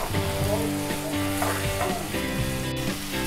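Onions sautéing in a pan for kothu parotta, a steady loud sizzle with clanking stirring strokes and scraping throughout, no voices.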